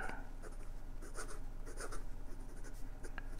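A 1958 Lady Sheaffer Skripsert fountain pen with Sheaffer cartridge blue ink, pressed lightly, makes soft, continuous, close-up scratchy strokes on paper with small rhythmic ticks and no talk.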